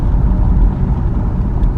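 A Ford Bronco engine rumbles low and steady from inside the cabin while the vehicle drives slowly around a small rural Texas town square.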